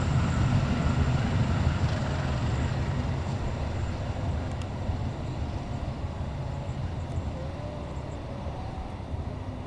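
Heavy, steady low rumble and rattling of the Pasundan passenger train rolling past near Cirahong, loud and continuous throughout with no voices.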